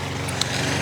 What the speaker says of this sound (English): lawnmower started